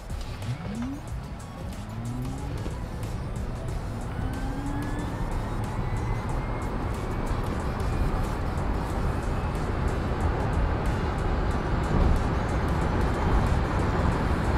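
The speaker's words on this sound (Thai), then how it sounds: "เดี๋ยวเราลองดูแบบ kick down แบบตั้งแต่0ดูซิว่าแตะ100ใช้เวลากี่วินะ" A Tesla Model Y Standard Plus electric car accelerates hard from a standstill. A rising electric motor whine climbs steadily in pitch over building road and tire roar, growing louder as speed increases, with no talking.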